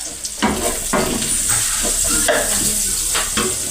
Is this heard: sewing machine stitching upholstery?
no